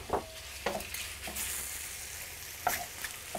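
Halved shrimp sizzle in a hot pan for seafood fettuccine, a steady crackling fry punctuated by several short scraping stirs of a utensil.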